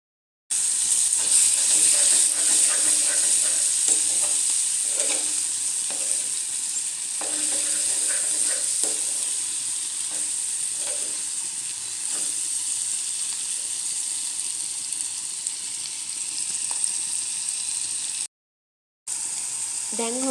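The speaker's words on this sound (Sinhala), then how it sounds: "පේනවද ඔයගොල්ලන්ට බැදෙන හඬ?" Green cowpea pods fry in oil in a covered pan, giving a steady, loud sizzle and hiss throughout with soft stirring clatters, and a brief gap near the end.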